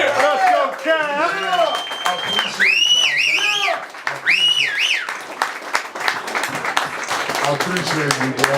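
An audience claps and cheers at a launch party as a DJ producer award is presented, with loud, steady applause and excited shouted voices over it throughout.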